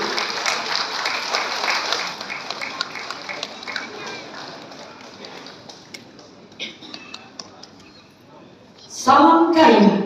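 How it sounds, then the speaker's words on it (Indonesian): Applause from an audience at the installation ceremony of the IKKS association in Pekanbaru, a dense round of clapping that gradually thins out, with a sudden louder burst of sound near the end. "Boleh kita berikan tepukan yang kedua"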